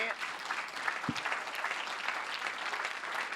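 An audience at a comedy show claps and cheers continuously, moderately loud, with a brief thump near the middle and a few voices mixed into the crowd noise.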